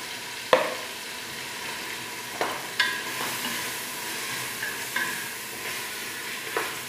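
Vermicelli, chicken and vegetables with tomato paste fry in a pan under a steady soft sizzle, while a utensil scrapes and knocks against the pan in several short strokes.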